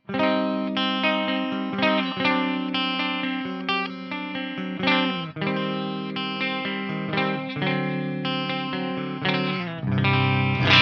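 Distorted electric guitar, a cheap Ibanez with single-coil-sounding pickup position 3, plays a busy riff with strummed chords and quick single notes, steady and moderately loud with no talking.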